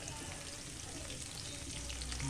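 Bananas coated in sugar sizzle and fry steadily in a pan, a close, dense crackle that stays even throughout with no pauses and no talk.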